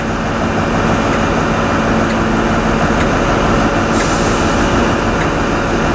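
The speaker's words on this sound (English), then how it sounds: "on the move downwards now is a ScotRail 170." A ScotRail Class 170 diesel multiple unit moves off at Inverness, giving a steady, loud broadband rumble and rolling noise throughout, with no voices.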